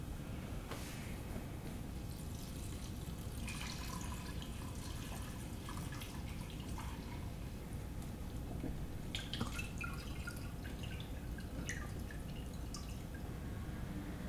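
Freshly blended oat milk strains through a nut bag over a kitchen sink, giving a continuous close trickle with scattered drips and splashes and no voices.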